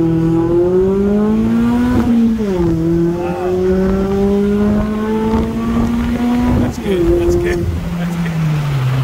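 A Mazda Miata on an autocross course revs hard in first gear, drops pitch briefly at the shift to second, then climbs again, loud and close from inside the car.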